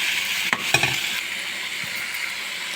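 Onions and tomatoes sautéing in a pan for South Indian dal tadka, a steady close sizzle with a couple of brief clinks of a spoon against the pan near the start.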